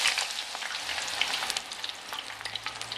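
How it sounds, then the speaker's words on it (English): Spoonfuls of eggplant batter frying in hot oil until golden, a steady close crackling sizzle with scattered bright pops throughout. "drop them in the oil"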